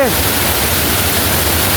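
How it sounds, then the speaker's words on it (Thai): A waterfall in Phu Hin Rong Kla National Park gives a constant, loud, broad rushing roar with no breaks throughout. "มันจะมืน นะครับเป็นน้ำตก"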